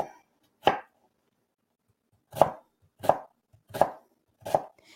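An onion sliced thinly with a knife on a cutting board, giving five crisp, separate chops: one early, then four in a fairly even rhythm, close and clear with quiet between them.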